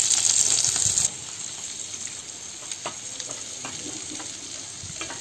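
Fish slices sizzle in oil in a pan on an outdoor stove, a steady crackling fry with scattered sharp pops, loud and close, louder at the start and then settling to a softer sizzle.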